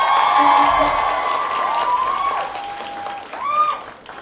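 A concert crowd applauds and cheers, with loud, continuous clapping mixed with shouts that swells again near the end while voices carry over it.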